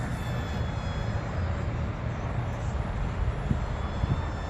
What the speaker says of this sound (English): This plane is flying nice.